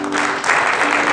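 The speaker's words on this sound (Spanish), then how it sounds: "Vamos a darle un aplauso al Señor." A church congregation at a Spanish-language service breaks into loud, dense applause, a steady wash of many clapping hands that fills the room for about a second.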